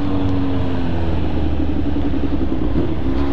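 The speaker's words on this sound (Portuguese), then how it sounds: "Mano, eu vou parar a moto ali pra vocês verem," A Suzuki SRAD 750 motorcycle engine drones loud and close at a steady pitch, a constant throaty hum with no breaks.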